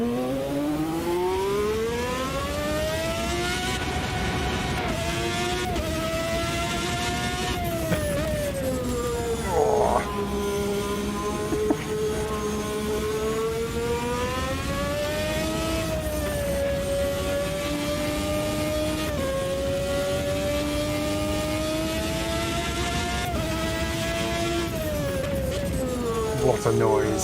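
Race car in the Automobilista 2 racing simulator, engine held loud and steady with smooth rises and dips in pitch through gear changes, running continuously and close.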